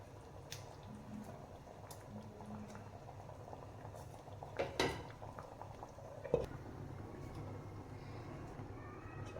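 A pot of rajma curry with paneer pieces bubbles at a steady simmer, a low continuous burble with a few soft clinks and splashes, close by and quiet, no talking.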